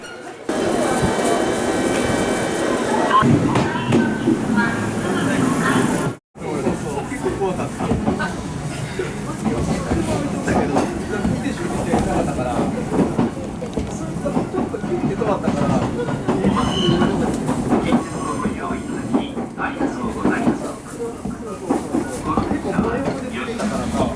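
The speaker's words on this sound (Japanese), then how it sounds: "この列車には途中の福上まで乗車します。" A Kintetsu Yoshino Line train in Nara Prefecture, Japan, rumbles steadily along single track with rhythmic clatter and rattling carriage noise throughout, with a brief drop near the start and occasional speech.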